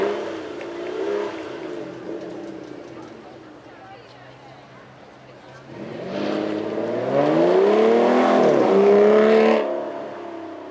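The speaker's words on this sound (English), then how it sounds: "Then next we go to a V12 Aston Martin, naturally aspirated" A naturally aspirated V12 Aston Martin pulls away from a crossroads at a supercar weekend, its engine note rising in a climbing rev sweep that grows louder mid-clip before fading, with people talking over the quieter opening.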